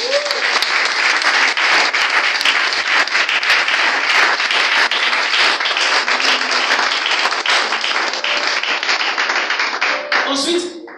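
A church congregation at a Sunday service applauds and cheers loudly and continuously, with voices calling out amid dense clapping that fades near the end.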